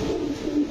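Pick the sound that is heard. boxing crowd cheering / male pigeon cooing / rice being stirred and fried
male pigeon cooing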